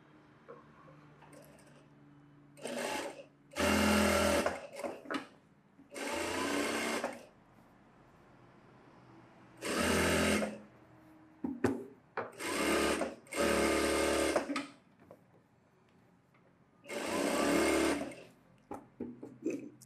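A sewing machine stitches around blouse material in about eight separate loud, close bursts of a few seconds each, with quiet handling pauses between them.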